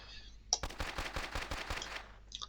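Rapid automatic gunfire in the EFPSE first-person shooter game, a burst of about a dozen evenly spaced shots over roughly a second and a half, crisp and fairly faint, preceded by a single sharp report.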